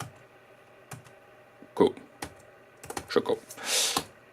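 A Linux rmdir command is typed on a computer keyboard, scattered clicky keystrokes in short bursts amid quiet stretches, ending in a louder rush of sound.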